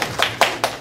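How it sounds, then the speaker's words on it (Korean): A few claps from an audience at a lecture, three quick separate hand claps in under a second, fairly close and clear. "박수 감사합니다"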